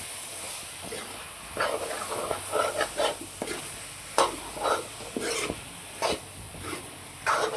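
Prawns sautéing in a pan for a drumstick, potato and prawn curry, with a steady low sizzle broken by repeated scraping stirs of a spatula, close and fairly loud, with no talking.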